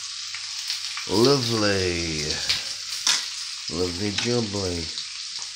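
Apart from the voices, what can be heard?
T-bone steak sizzling in frying pan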